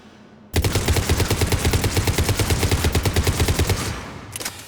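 A Piranha shotgun fires in Mass Effect 3, a loud, rapid burst of about two dozen evenly spaced booming shots over roughly four seconds, then a brief tail and a couple of faint trailing sounds.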